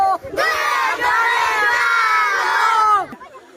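A crowd of voices chants the Nara-e-Takbir slogan in loud unison, one long shouted phrase held for a few seconds after a brief opening call.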